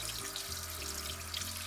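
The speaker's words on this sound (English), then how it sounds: "I'm just going to go ahead and run the cold water until it gets cold." Cold water runs steadily from a kitchen sink tap into a freshly cleaned sink, a constant close hiss and splash with no talking over it.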